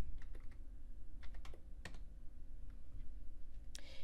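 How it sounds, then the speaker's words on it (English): Typing on a computer keyboard while entering a user ID and password: a run of irregular, close key clicks with a few sharper taps, over a low steady background hum. "You'll simply type your user ID here and your password."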